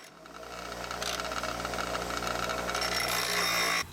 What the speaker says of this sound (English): I'm grinding 2 opposing sides flat, so I have something to hold on to on my vise